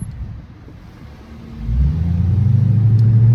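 A Chrysler 300 with a Hemi V8 rated over 400 horsepower rumbles while driving at night, starting as a quiet hum and swelling into a deep, steady, louder engine drone about halfway through, with no speech.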